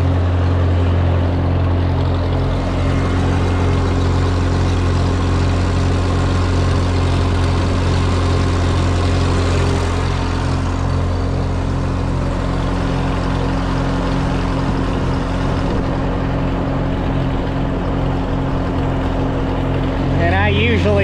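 A crop sprayer used on corn runs steadily with its pressure cranked way up, giving a loud, constant engine drone and whine with a low throb for about twenty seconds, while a voice talks over it.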